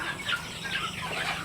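Sonali chickens on a farm with around 600 birds, clucking softly in a continuous low chatter from several hens at moderate distance.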